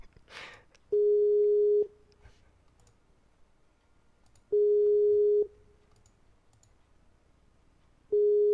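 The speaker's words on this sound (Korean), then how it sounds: "그럼 국장님한테 전화 한번 해볼게요." A steady telephone ringback tone on an unanswered call repeats three times, each long buzz followed by a few seconds of quiet line hiss.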